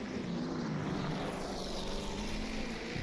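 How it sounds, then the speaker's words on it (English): Lancia D50 1950s Grand Prix car in a racing game, a buzzing engine note humming steadily at moderate distance, fairly quiet and unbroken. "the lovely engine note."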